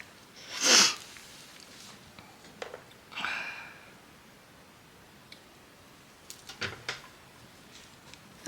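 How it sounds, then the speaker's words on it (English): A single sharp sneeze bursts out near the mic, followed a few seconds later by a softer sniff and some faint clicks of handling. "Oh, I'm going to sneeze."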